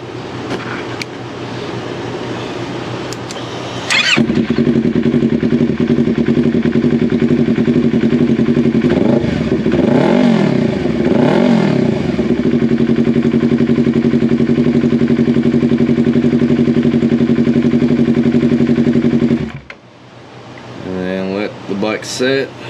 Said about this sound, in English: we'll turn it on